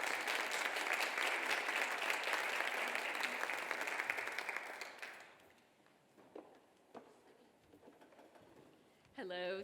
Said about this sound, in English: Well, you got to give it up for these two ladies.